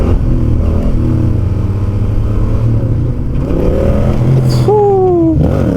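A motorcycle engine drones and revs while the rider shifts up through the gears, the pitch climbing and dropping with each change, loud and close.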